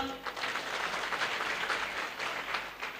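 Loud, sustained applause from an audience at a Marathi student felicitation event, honouring the local MLA and dignitaries on stage; dense, steady clapping fills the whole stretch with no voices over it.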